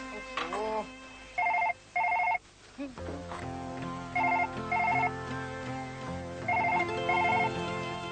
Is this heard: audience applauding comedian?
no